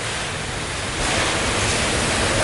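Steady, roaring wind from Typhoon Odette making landfall fills everything, growing slightly stronger partway through, with no voices.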